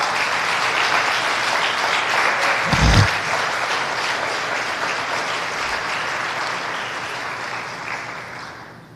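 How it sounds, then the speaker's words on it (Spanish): A church congregation claps in steady, sustained applause for about nine seconds, dense and even before it slowly fades toward the end. "Bríndele un aplauso al Señor entonces."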